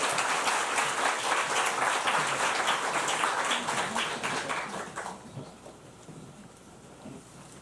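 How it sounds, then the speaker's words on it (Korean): A church congregation applauds during a Sunday service, with dense, sustained clapping that gradually fades and thins toward the end. "다시 한번 큰 박수 해주시기 바랍니다"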